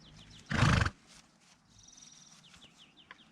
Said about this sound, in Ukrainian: Коники файні.